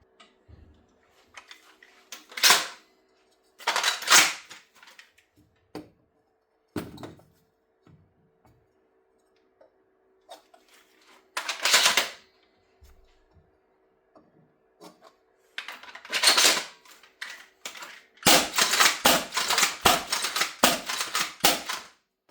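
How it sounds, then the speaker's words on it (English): The 3D-printed Sillybutts Breacher, a shell-ejecting Nerf blaster, is handled and fired. Sharp plastic clacks and rattling bursts come in scattered groups separated by silence, ending in a dense run of mechanical noise. "Now we have the Sillybutts Breacher shell-ejecting Nerf blaster"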